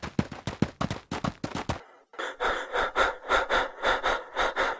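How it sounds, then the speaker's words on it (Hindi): Three cartoon friends pant hard after running from a huge explosion, a rapid rhythmic string of breaths following a few sharp clattering hits. "कुछ दूर जाकर एक जगह खड़े हुए और तीनों मित्र हांफने लगे।"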